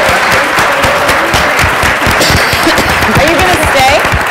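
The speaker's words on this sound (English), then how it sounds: "can we give Margo a big round of applause, please?" Sustained audience applause at a film festival works-in-progress program, dense steady clapping from a crowd with some voices mixed in throughout.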